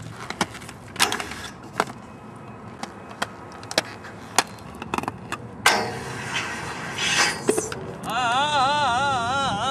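Sharp, scattered clacks and thuds of a skateboard hitting pavement during a street skating session, moderately near over quiet outdoor ambience, followed by rolling noise and a warbling tone near the end.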